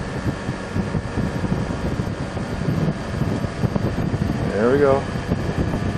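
A heat pump's inverter compressor winding up after a defrost cycle: a steady mechanical hum and fan whoosh, with a rising whining tone near the end, under a brief spoken remark.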